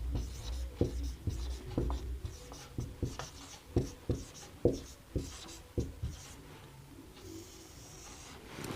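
A pen writes by hand on paper, making a series of short scratchy strokes in an irregular rhythm, close and clear in a quiet room, with no speech.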